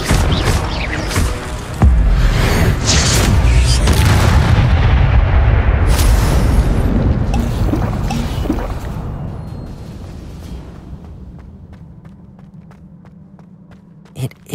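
An Incendio fire spell cast in Hogwarts Legacy, a loud roaring burst with heavy booming impacts and crackling that slowly fades away, ending in a couple of sharp clicks.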